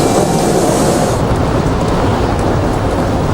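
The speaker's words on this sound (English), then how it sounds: "Patricia Messari arrives at Fulton Street subway station in downtown Manhattan." A subway train runs at Fulton Street station in downtown Manhattan, a loud, steady roar of wheels and rail noise that fills the whole stretch without pause.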